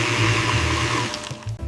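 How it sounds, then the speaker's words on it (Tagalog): A kitchen blender whirs loudly and steadily up close, then winds down and sputters to a stop near the end. "I use a blender to make smoothies."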